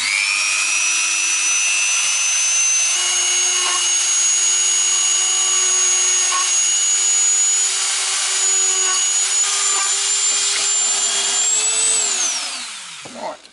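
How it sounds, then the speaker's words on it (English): A Dremel bores pilot holes into a wooden musket stock, giving a steady high-pitched whine held for about twelve seconds. Faint scraping of the bit in the wood sits under the whine before the motor spins down at the end. "now with much care and skill I'm going to attempt to drill a pilot"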